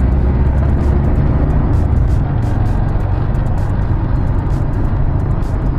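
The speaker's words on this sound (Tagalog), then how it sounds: "naglalakihang mga truck." Steady loud road rumble of large trucks driving along a highway, heard from inside or beside moving traffic, a continuous dense engine and tire roar with no pauses.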